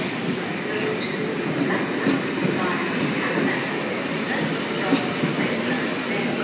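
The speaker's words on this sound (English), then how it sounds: "There's an S set departing platform 17" Sydney Trains S set pulling out of platform 17 at Central on a City Circle service, a steady broadband rumble of rolling rail cars with faint clatter and echoing station ambience throughout.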